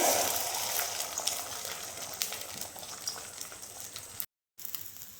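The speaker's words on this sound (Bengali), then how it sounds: "আগে ডিমটা ভেজে নিলাম" An egg fries in a pan with a steady, close broadband sizzle and crackle that runs on continuously, broken by a brief gap of silence near the end before resuming.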